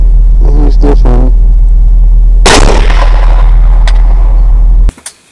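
One loud, close gunshot cracks out partway through, aimed at a beaver running across open ground, over a steady low rumble that cuts off near the end.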